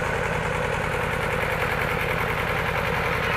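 A tractor engine works hard pulling a potato plow during planting, a loud, steady, close diesel throb with an even rhythmic pulse throughout.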